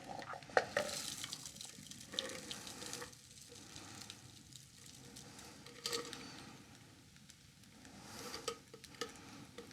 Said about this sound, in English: Now double straining.